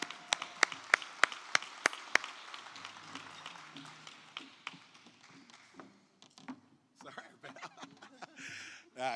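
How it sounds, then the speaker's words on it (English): Applause at a labor-markets event as a bank sponsor's representative is welcomed to the stage: a few sharp, spaced claps at first, then scattered clapping and light chuckles fading into quieter room noise. "Let's give Mr. Jared Evans, our sponsor and representative from Chase, a big round of applause as we welcome him to the stage."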